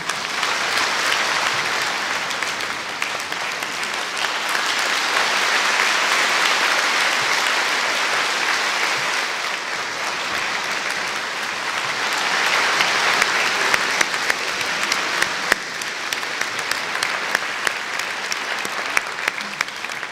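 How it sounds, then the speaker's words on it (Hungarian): An audience in Budapest, Hungary applauds to welcome a speaker on stage. Sustained, dense clapping carries on steadily for the full twenty seconds, swelling slightly midway, with no talking over it. "Kérem, szerető tapsukkal fogadják."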